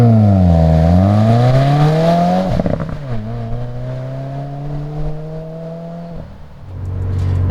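An aftermarket exhaust on a 2015-2021 Subaru WRX revs up loud and close, rising and falling in pitch, then settles into a steady throaty drone before dropping back to idle, with no voices over it.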